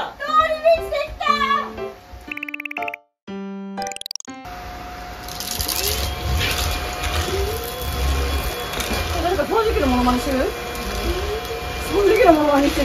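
A person's voice imitates a vacuum cleaner with a sustained noisy whooshing hum that rises and falls over several seconds, following a few short melodic game-like tones, with speech mixed in.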